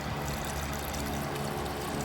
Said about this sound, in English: And we're gonna dump that water out.